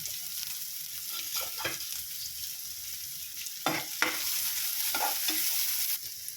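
Three finely chopped onions hit hot oil in a pan and fry with a steady close sizzle, broken by scraping stirring strokes.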